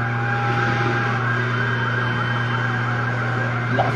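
A fire truck siren wails steadily at a residential fire in Tondo, Manila, a constant tone sounding from a moderate distance over a background of engine hum and crowd noise, with no talk.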